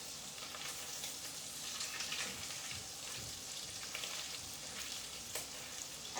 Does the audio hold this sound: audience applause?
no